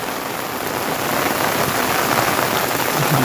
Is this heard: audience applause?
no